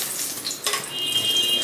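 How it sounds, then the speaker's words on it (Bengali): Slices of eggplant fry in a pan with a continuous, close crackling sizzle, briefly rising in a burst partway through, with no talking. "একটু বেগুন ভেজে দিলাম"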